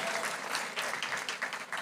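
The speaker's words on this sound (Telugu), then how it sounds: "నమ్మితే చప్పట్లు కొట్టి దేవుని మహిమపరచు గట్టిగా." A church congregation claps together during a sermon, a dense, moderately distant patter of many hands with faint voices mixed in.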